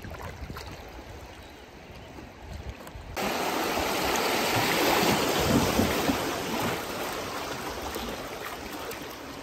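River water flows and laps around a craft during a float trip, a soft continuous rushing that jumps noticeably louder partway through and then holds steady to the end.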